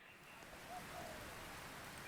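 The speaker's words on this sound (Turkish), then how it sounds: "Yağmur yağıyor çadıra girmemiz lazım." Steady rain falling in a Roblox camping game, a soft, even hiss that stays faint and uniform throughout.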